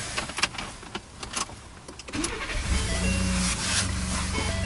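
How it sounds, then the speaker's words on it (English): Ford truck engine being started, the starter cranking briefly after some clicks and handling noises, then catching and settling into a steady idle that continues to the end. "To do this, we need to turn the car on"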